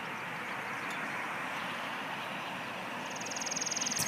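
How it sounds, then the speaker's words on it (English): A train rumbling past a malfunctioning railroad crossing, steady broad roar throughout with a rhythmic ringing of crossing bells rising near the end. "Sounds like a train."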